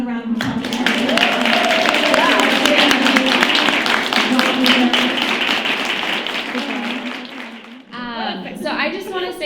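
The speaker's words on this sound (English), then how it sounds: "Can we have another round of applause?" Sustained audience applause at a youth panel event hosted by the Women's Democrats of Sacramento County, dense clapping for about eight seconds, then dropping away as a voice starts talking.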